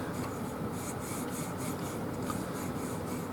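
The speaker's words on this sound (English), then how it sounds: "I'm now going to start sanding it down, get rid of all of the marks" Steady rasping friction of sanding a wooden click pen blank, a continuous close rub with a faint rhythmic back-and-forth pulse, no voices.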